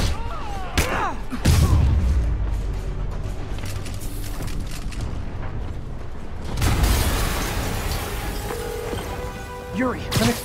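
Marvel's Spider-Man game explosions: a couple of heavy booming blasts near the start and another rumbling burst midway, each trailing off into rubble and debris noise, while voices talk in the game.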